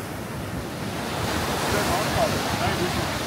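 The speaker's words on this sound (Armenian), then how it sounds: "Ալիքը ոնց է ալիք։" Surf breaks and rolls in on a beach, a broad steady rush that swells slightly, close and loud, with wind noise on the microphone.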